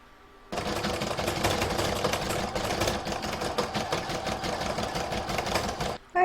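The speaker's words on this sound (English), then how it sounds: "push the go button on my machine, and it will stitch the snowflake in the right position" Embroidery machine stitching a snowflake design in the hoop, starting abruptly into a fast, steady mechanical chatter that runs evenly, then stops with a brief clunk at the end.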